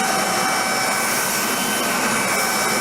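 A NaceCare RSV 150H battery-powered backpack vacuum cleaner running on its high setting gives a loud, steady whine with an even high-pitched hum that does not vary.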